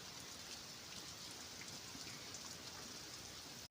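Steady rain falls in a tribal village in Odisha, a dense continuous hiss of drops on surfaces, even and unbroken for the whole stretch.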